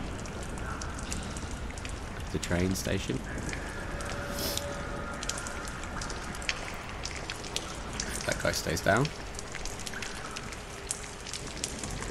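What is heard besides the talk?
rain echoing in video game Lies of P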